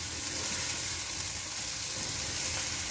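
Coriander, ginger-garlic and green chilies frying in a pan, a steady, dense hiss of sizzling oil that holds evenly throughout, close and fairly loud, with no talking.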